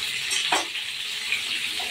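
Potatoes and pointed gourd fry in oil with a steady, close hiss, broken by a brief louder crackle or stir near the middle.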